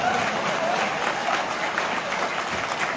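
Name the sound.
audience applause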